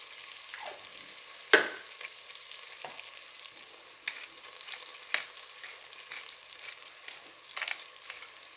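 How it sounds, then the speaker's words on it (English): Onions and leeks frying in butter in a soup pot, a low, soft sizzle broken by occasional scrapes and knocks as a spoon stirs them, close and fairly quiet with no talking. "we're just going to stir it and fry it until it becomes translucent, both the onions and the leeks"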